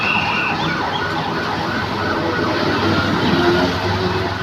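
Ambulance-like siren of a passing VIP vehicle motorcade on a road in Jamalpur, wailing continuously and fairly loud over steady traffic rumble.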